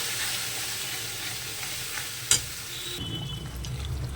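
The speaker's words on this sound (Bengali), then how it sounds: "মাংসর মশলাটা যতটা কষানো হবে তত খেতে টেস্টি হবে। তো একটু ভালো করে ভাজা ভাজা হয়ে যাক" Spice paste with fried garlic sizzles and hisses in a pan as it is stirred for a meat curry at a picnic, with one sharp clink of a utensil midway and the frying continuing after.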